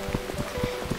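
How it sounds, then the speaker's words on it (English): Rain in the Burnhouse Lane game falls in a soft, steady patter, with individual drops tapping in a loose rhythm during a brief moment with no talk. "Bloody rain."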